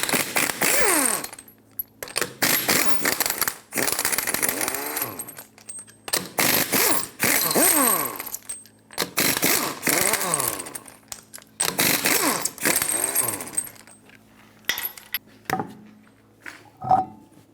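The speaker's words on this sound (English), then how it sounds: "Use a 21mm socket and remove all 5 of your lug nuts so you can take the wheel off." A power tool spins off the lug nuts of a Lexus GS300 rear wheel with a 21mm socket, sounding as a series of loud, buzzing whirs in separate bursts with short quiet gaps between them.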